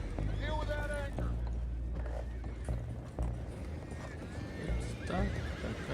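Horses in a video game neigh and whinny nearby amid clip-clopping hooves and background commotion, with a couple of distinct whinnies standing out over the noise.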